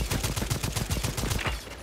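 Rapid pistol gunfire in the Second Extinction shooter game, a fast rhythmic string of sharp, loud shots filling the whole moment with no talking.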